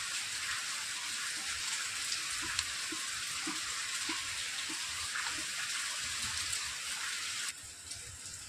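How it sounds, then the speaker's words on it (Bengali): Heavy rain falls outside as a dense, steady hiss that continues unbroken, with a few faint soft taps underneath. "আর আমাদের এখানে কিন্তু আজকে খুব বৃষ্টি হচ্ছে"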